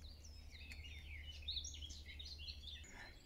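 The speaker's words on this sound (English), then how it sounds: "Just listen to the birdsong here." Birds sing in woodland near Barton Broad in Norfolk, several high chirps and warbling phrases overlapping at a moderate distance over a steady low rumble of background noise.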